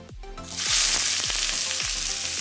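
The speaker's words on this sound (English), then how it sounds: "we're going to add 1 cup of chopped up white onions" Chopped white onions dropped into a hot pan for a pork stir fry with noodles, a loud hiss that rises sharply within the first second and then holds as a steady close sizzle.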